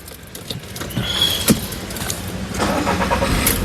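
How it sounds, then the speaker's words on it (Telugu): A 2010 Volkswagen Vento Highline starts on the first try, with a short crank burst that settles into a steady, nearby engine idle with no one speaking. "సింగిల్ సెల్ఫ్లో కార్ స్టార్ట్ అవుతుంది"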